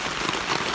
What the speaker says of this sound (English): but it is really raining. Sheets of rain coming down.